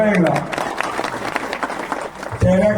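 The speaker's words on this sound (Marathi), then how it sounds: "टाळ्या" Applause from a crowd at a Harinam Saptah devotional gathering in Bori Shikari, a dense, steady patter of clapping that rises and holds, with a voice heard briefly at the start and end.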